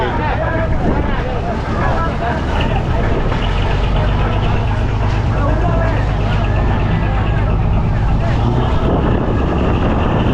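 A passenger boat engine drones steadily with a low rumble, travelling about 10 to 11 km/h on the water toward Neduntheevu, Sri Lanka, wind buffeting the microphone throughout.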